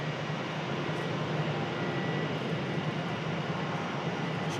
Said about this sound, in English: Got an American Airlines on the move.